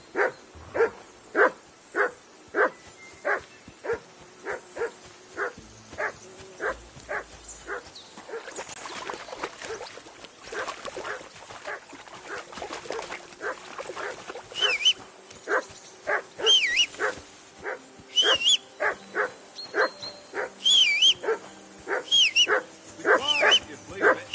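A dog barks continuously in a fast, regular rhythm for a long stretch, with some background noise and occasional higher yelps mixed in.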